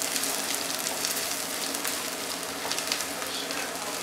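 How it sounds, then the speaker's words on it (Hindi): Chopped garlic frying in a pan for spaghetti gives off a steady, dense sizzle that holds at an even level throughout, close and fairly loud with no talking. "सारा गार्लिक ऐड कर लेंगे और अब इसको पका लें।"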